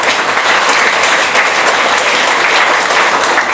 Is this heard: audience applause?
yes